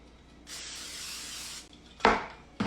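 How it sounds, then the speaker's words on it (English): Cooking spray hisses from a can onto a pan in a kitchen in one steady burst lasting about a second, close and fairly quiet, followed by a couple of sharp knocks as the can or pan is set down. "We're going to spray our pan."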